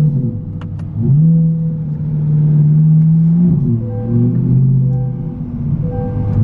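Exhaust of a 2020 Corvette engine, a loud, deep and bassy rumble held up close, rising briefly as the revs lift and then settling back into a steady throb.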